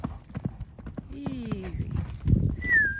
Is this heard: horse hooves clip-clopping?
yes